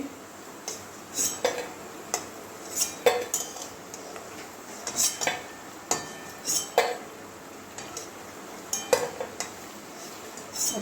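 Fried bitter gourd and potato being lifted from oil in a pan with a spatula, giving repeated close metallic clinks and scrapes at an uneven rhythm over a faint background hiss.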